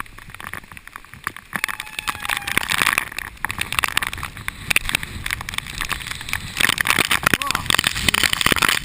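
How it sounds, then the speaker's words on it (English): Strong typhoon wind at Nagoya Station, gusting and buffeting loudly against the microphone in irregular crackling bursts, with a person speaking over it. "Oh, man, the wind is really strong."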